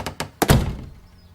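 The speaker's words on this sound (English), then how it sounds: "She jumped when there was a loud thud on the other side, like someone had run into her door" A couple of light knocks are followed by a loud, heavy thud against a wooden door, with a short muffled resonance afterward and no voices.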